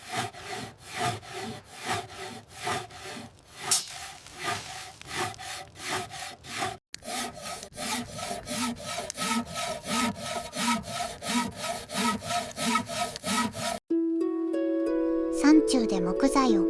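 Woodcutters working a big saw through a large squared timber, giving close rhythmic rasping strokes repeated steadily, then a short tonal musical passage at the end.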